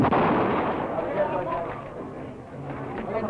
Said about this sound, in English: My gun exploded.